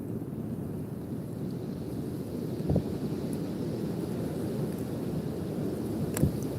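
Steady wind rushes and buffets through the full stretch outdoors, a constant low roar with a couple of brief gusty thumps, loud and close to the microphone with no one talking.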